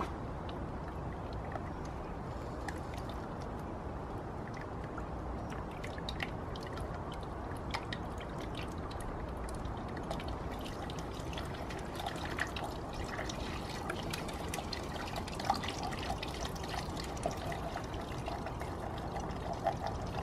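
Coolant and deionized water poured into a BMW cooling system during a coolant flush: a quiet, steady trickling pour running unbroken for about twenty seconds, with no talking.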